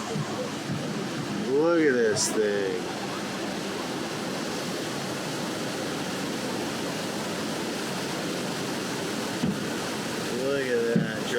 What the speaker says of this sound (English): all of a sudden, we just come across this waterfall